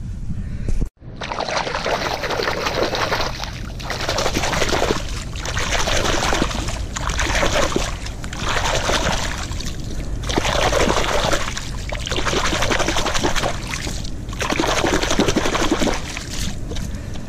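A dug-up old glass bottle from a rubble slope is washed under running water: loud, close splashing and gurgling pulses in repeated waves, each swell followed by a short lull, continuing steadily.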